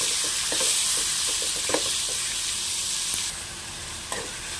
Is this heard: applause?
no